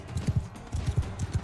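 Galloping horse in Mount and Blade Bannerlord lance combat, its hooves thudding in a quick, uneven clip-clop rhythm with a few heavier, closer beats, and no speech.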